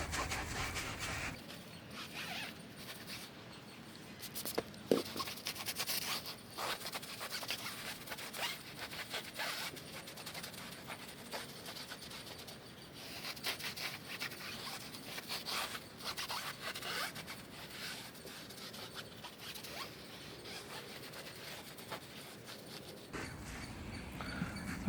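Applicator rubbing tire shine onto a car tire, a continuous close scrubbing and swishing friction with quick uneven strokes, steady throughout.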